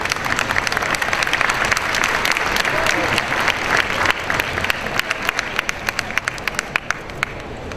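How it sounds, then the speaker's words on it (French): Audience applause fills a Paris fashion award ceremony as a Turkish designer is honoured, a dense, steady crowd clapping that thins near the end into a few louder individual claps. "Merci de l'applaudir."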